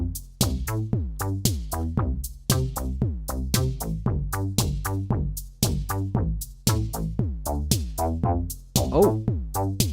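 An iOS synth processed through Moog Moogerfooger effects plays a punchy repeating bassline of decaying plucked notes, loud and up close, with a steady rhythmic pulse and no talking.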